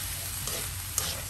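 Fried quinoa being stirred in a hot pan, a brief close, steady sizzle with a couple of light spatula scrapes.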